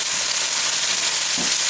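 A pot roast browning in a pan of canola oil over medium-high heat, giving a loud, steady crackling sizzle throughout.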